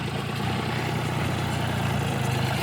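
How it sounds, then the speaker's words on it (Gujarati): A Sonalika tractor idles nearby with a steady, low, throbbing engine note that holds even and unbroken throughout. "સોનાલિકા ટ્રેક્ટર લઈને આવ્યા હો ભાઈ."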